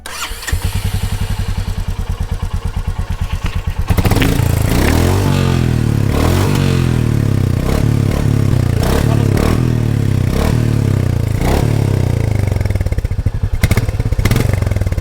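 A Royal Enfield Meteor 350 on its stock exhaust starts up and settles into a loud, steady thumping idle with repeated revs, mechanical clatter throughout, close to the bike and with no talk.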